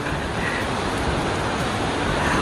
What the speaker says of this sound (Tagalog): Ayan guys ang lakas ng ulan.